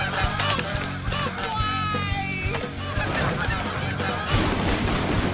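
Cartoon geese invading a park in Regular Show honk loudly and repeatedly, their nasal calls overlapping over a busy, noisy background.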